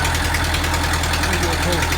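A tractor engine idles steadily close by with a low mechanical rumble and slight knock, the running sound continuous and even throughout.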